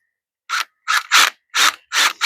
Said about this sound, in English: I want to get these screws in here.